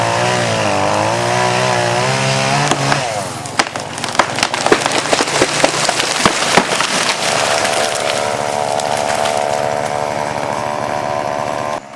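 A chainsaw cuts a felling wedge into a tree, a loud steady engine whine with a drop in pitch partway through and sharp cracking and splintering bursts as the wood gives.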